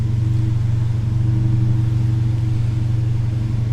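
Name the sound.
2015 Dodge Challenger R/T Scat Pack engine starting up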